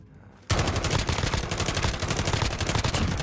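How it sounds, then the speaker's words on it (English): Rapid automatic gunfire in Call of Duty: Modern Warfare bursts in after a brief quiet start, then continues as dense, loud, sustained shooting. "Shoot, we're getting shot at."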